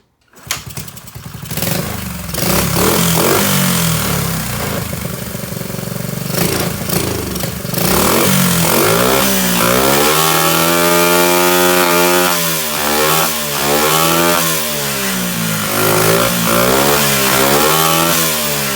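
A Honda SL70K1 motorcycle with a dirty carburetor starts up and runs loud and close, idling roughly and then revving up and down in repeated swells.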